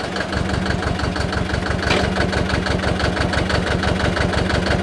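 A Hinomoto E23 tractor idles out of gear with a loud, close, steady rhythmic diesel chug and an even mechanical clatter that holds throughout.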